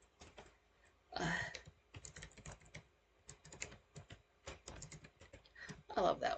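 Fingers tap rapidly on a computer keyboard in irregular bursts of close, clicky keystrokes, with a voice speaking briefly at times between the typing.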